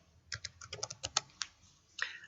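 Close, crisp typing on a computer keyboard during spreadsheet work, a quick run of about a dozen separate keystrokes and then a short pause before a final pair of clicks.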